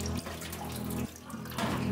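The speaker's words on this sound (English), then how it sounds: "you just pour water once through" Water is poured through seed sprouting trays, a continuous trickling and splashing that swells and dips in a few surges, moderately close and unaccompanied by speech.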